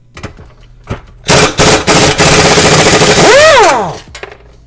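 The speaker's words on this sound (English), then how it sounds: "Got my impact. I'm gonna rock these bolts out of here, these nuts off here." A pneumatic impact wrench running off an air compressor rattles the nuts off the wear bars on a John Deere snowmobile ski, loud close bursts, the last one winding down in a falling whine.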